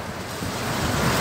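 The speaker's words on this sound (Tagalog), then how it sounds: "Sobrang lakas ng hangin eh." Strong wind roars steadily across the microphone in a small park in Jeddah, a dense broadband rush with no voices, building slightly louder toward the end.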